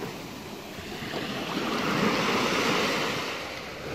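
Ocean waves wash onto a sandy beach nearby, a steady broad rush of surf that swells to a louder peak midway and then eases, with some wind noise and no voices.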